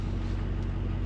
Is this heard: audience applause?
no